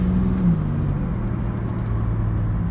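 A 1989 Pontiac 20th Anniversary Turbo Trans Am on the move: engine tone drops sharply as it shifts gears, then a steady mid-pitched drone and road noise continue, heard from inside with no speech.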